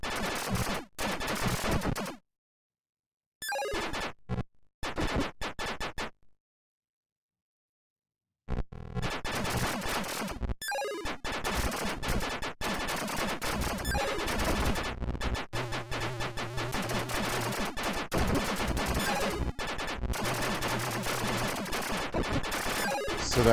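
Retro video game shooting on Antstream, a rapid stream of electronic zapping shots firing in fast, steady bursts with a couple of short silent gaps and sweeping synthetic tones between volleys.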